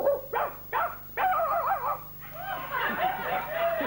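A dog barks three times in quick succession, then lets out a longer, wavering howl-like yelp, close and fairly loud.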